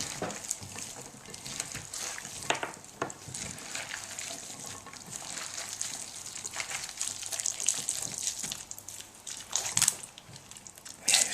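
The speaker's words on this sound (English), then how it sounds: "Let's pour this water in here and go back the other way." Water is poured steadily into a pot of hawthorn pulp for jelly, a continuous gushing splash with shifting texture that grows a little stronger toward the end, heard alone.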